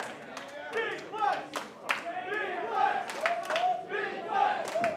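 A wrestling crowd in St. Louis claps and cheers around a match, with sharp hand claps and rising shouts in waves, and a commentator talks over the noise.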